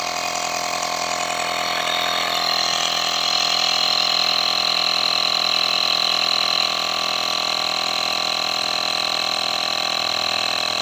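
A portable air pump runs steadily while inflating a motorbike tire, giving a loud, continuous mechanical whine and hum that holds constant throughout with no breaks.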